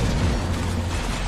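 A grenade explosion in the real-time strategy game Halo Wars: a loud, sustained, low rumbling blast that fills the whole moment without a break, with no voices over it.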